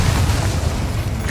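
The Accio summoning spell in the Hogwarts Legacy video game lands as a loud, continuous booming whoosh, heavy and dense throughout its brief second-long span.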